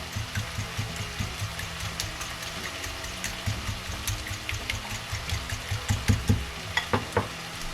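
Egg whisked and stirred into leftover fried rice in a hot pan, a steady sizzle with repeated scraping and clinking strokes close by, growing busier toward the end; nobody speaks.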